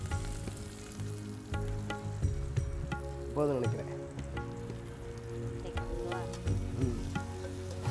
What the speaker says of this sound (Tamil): நல்ல நைஸாக வெட்டி வச்சிருக்கிற சின்ன வெங்காயத்தை இதோட சேர்த்துக்கிறேன்